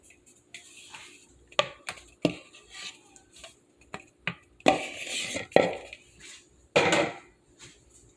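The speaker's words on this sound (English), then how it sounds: "I'm going to give it a mix with my whisk" A whisk clatters against a bowl of carrot cake batter made with oil and flour, giving irregular scraping strokes and sharp metallic clinks with brief pauses between bursts, close by and with no talking.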